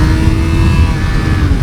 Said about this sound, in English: it's just such a special sound with the air-cooled, high-revving 4-cylinder.